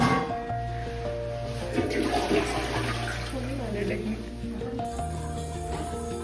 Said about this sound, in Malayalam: ഫ്ലഷ്